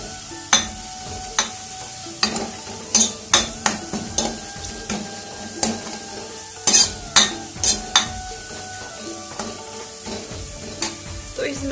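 Browned onion and garlic with turmeric and salt sizzle in a pan while a spoon stirs, producing a steady fry under repeated sharp metallic scrapes and clinks against the pan, close and alone.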